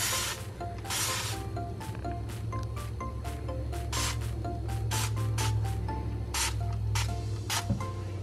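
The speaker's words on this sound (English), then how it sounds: "I'm trying to spray directly on the stuck on stuff" Cleaner is sprayed from a spray can onto dishes with stuck-on food, producing a rapid series of short hissing bursts over a steady low background hum.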